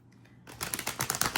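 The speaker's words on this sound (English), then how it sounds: "I'm like shuffling the fuck out of these cards" A deck of tarot cards being shuffled hard, quiet at first, then a rapid flurry of crisp riffling snaps and slaps, close and loud with an uneven rhythm.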